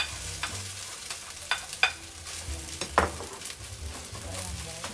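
Rice and egg are stir-fried in a pan, with a soft steady sizzle broken by sharp scraping and clacking strokes of a utensil at an uneven rhythm, close by.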